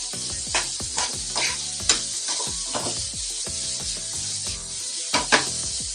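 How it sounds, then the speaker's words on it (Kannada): Green chilies and onions frying with salt in a pan for a broccoli fry, a steady sizzle broken by repeated scraping stirs and knocks of a spoon against the pan, close and without talk. "ಈ ಥರ ಚೆನ್ನಾಗಿ ಮಿಕ್ಸ್ ಮಾಡ್ಕೊಳ್ಳೋಣ"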